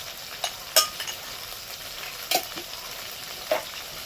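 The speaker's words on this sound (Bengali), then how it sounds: "এবার এটাকে কষিয়ে নেব এদিকে কষতে থাকুক" Pointed gourd sautéing with spices and Kashmiri chilli powder in a pan: a soft continuous fry underneath, broken by three or four crisp spatula clicks and scrapes at uneven intervals, close up.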